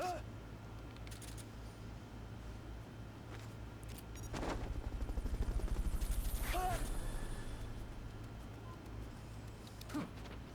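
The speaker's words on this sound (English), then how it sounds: "recovery subject Hey man. confirmed onboard helicopter" Helicopter in the video game Metal Gear Solid: Peace Walker, a faint low rumble that swells into a rhythmic rotor chop midway, then fades again, with sparse game effects scattered around it.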